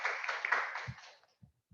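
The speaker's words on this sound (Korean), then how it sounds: "다시 한번 큰 박수로" Applause from a church audience at an Environment Sunday lecture, a broad burst of clapping that fades out after about a second, followed by a couple of faint low thumps.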